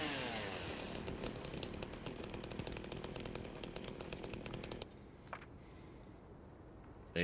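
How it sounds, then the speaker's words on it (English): A chainsaw roars loud and close in a horror video game, its buzzing engine running steadily for several seconds before cutting off abruptly, leaving a quiet stretch with a couple of faint knocks. "It's fine. I got a chainsaw."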